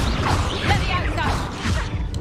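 A Levioso levitation spell is cast in Hogwarts Legacy, a swishing whoosh with a thudding impact amid ongoing game noise and voices.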